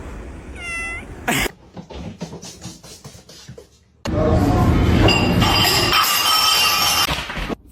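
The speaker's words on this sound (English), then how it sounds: "He's a very loving cat." A male cat meows in a short burst at the start, then scratching and clinking noises follow, ending in a loud sustained stretch of scraping and rattling.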